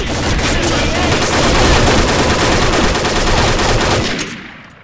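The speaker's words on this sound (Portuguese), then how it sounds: "Olha a rajada dos caras, já se escutou?" Sustained rapid automatic gunfire rattles loudly for about four seconds, dense and unbroken, then cuts off abruptly into quiet.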